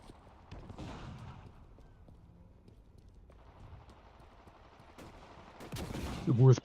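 Gunfire in a video game: quiet scattered shots through a low background, building to a louder burst of rapid firing near the end.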